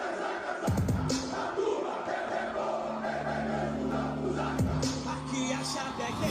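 Vasco football supporters chanting together as a dense crowd, a sustained roar of voices with sung tones and a couple of sharp bangs breaking through.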